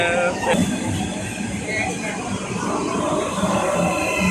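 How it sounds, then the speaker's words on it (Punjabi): A train rumbles and hisses as it pulls into a station in Italy, a low continuous mechanical noise with a brief clank, while people talk nearby. "ਉਹ ਟ੍ਰੇਨ ਆ ਚੁੱਕੀ ਹੈ"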